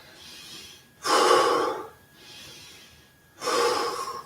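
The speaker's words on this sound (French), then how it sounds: "ou bien avec des respirations profondes" Two deep, forceful breaths taken alone during recovery after Systema exercise, each a loud, broad rush of air lasting about a second, separated by quieter, softer breathing.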